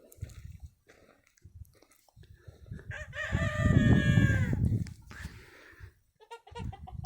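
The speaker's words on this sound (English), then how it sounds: "when he sees me and I ignore him, he crows" A rooster in a pallet-wood backyard pen crows once, loud and close, a drawn-out call of a second or two, with scuffling and faint clucks before and after.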